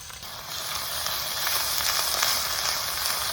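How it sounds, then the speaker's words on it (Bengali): Onion paste and ginger-garlic paste fry in hot spiced oil with cumin, giving a loud, steady hiss of sizzling that swells slightly after a brief quieter start, with no talking. "এইবার মশলা কষিয়ে নেবো। প্রথমে দিয়ে দেবো পেঁয়াজ বাটা, এবার দিয়ে দেবো আদা রসুন একসঙ্গে বাটা।"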